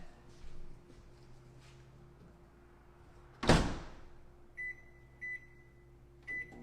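A microwave oven cooking food on high hums quietly for a few seconds, then its door clunks open, and three short electronic beeps follow at even intervals.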